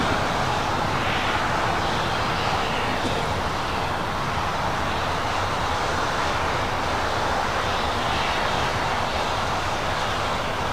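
A British Airways Boeing 777-300ER pushes back from a gate at LAX's Tom Bradley terminal, a loud, steady, broadband jet roar filling the scene without letup and with no talking.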